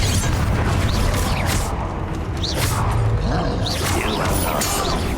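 Confringo explosion spell cast in the Hogwarts Legacy video game, a dense wash of booming blasts, whooshes and crackling debris in constant battle noise, with a voice briefly audible.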